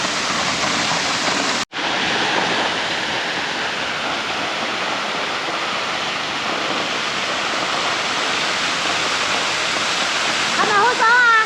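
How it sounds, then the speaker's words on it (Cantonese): A waterfall in a karst landscape roars as a dense, constant rush of falling water, loud and close, with voices faintly heard near the end. "睇呢個瀑布啦"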